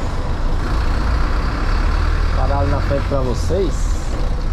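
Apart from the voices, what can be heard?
city bus stopping, air brake hiss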